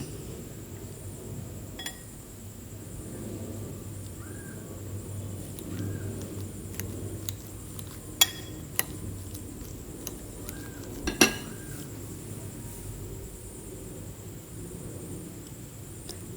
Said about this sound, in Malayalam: ഉരുളക്കിഴങ്ങ് വെന്തത് നല്ലതുപോലെ ഒന്ന് ഉടച്ചെടുക്കാം